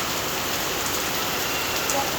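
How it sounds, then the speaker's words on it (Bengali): Heavy rain pours down in a dense, steady hiss of countless drops striking surfaces, close and constant for the whole short stretch. "আজকে প্রচুর পরিমাণে বৃষ্টি হইতেছে"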